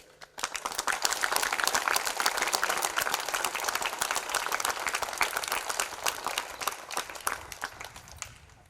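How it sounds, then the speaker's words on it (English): Sustained round of applause from a crowd at a school welcome ceremony, dense steady clapping lasting several seconds before tapering off. "give a big round of applause to all of them"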